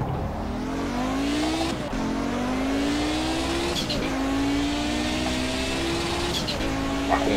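Audi race car in Project Cars at Ruapuna Speedway during free practice, its engine climbing steadily through the revs with repeated quick gear shifts, each shift breaking the rising whine before it builds again.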